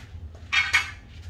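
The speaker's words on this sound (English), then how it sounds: "now I can take the chain off" A timing chain slipping off a Honda K-series K20/K24 engine, two quick metallic jingling rattles close up, brief and bright in an otherwise quiet space.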